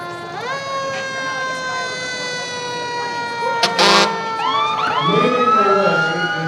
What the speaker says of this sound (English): Leading the way is Engine 17 for fire station 17 here in downtown Edmonds.